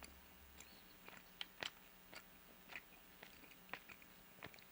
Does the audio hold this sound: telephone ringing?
no